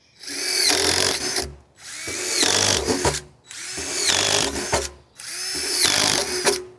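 A power drill with a half-inch bit bores drainage holes into the bottom of a plastic compost tumbler: four separate whirring bursts, each rising and cutting off, close and fairly loud.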